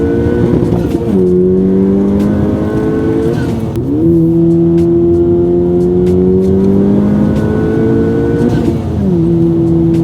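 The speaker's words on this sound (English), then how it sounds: "you still get your whooshing sound that comes in, but I felt like there was this metallic sound, and maybe that's the titanium" Honda Civic Type R engine with a titanium intake, heard from inside the car as it rises through the revs in long pulls with gear changes between them, loud and steady with a whooshing, slightly metallic tone.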